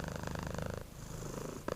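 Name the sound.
cat purring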